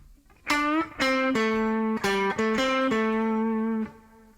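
Two short guitar licks play back to back in a beginner improvisation: a bent note slides upward, then picked notes step up and down the scale in a steady, close phrase. No voices are heard over it.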